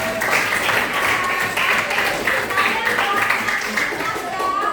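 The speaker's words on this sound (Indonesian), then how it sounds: "Tepuk tangan buat" Students in an Indonesian classroom clap together in a steady burst of applause that fills the room without a break and sounds close and lively.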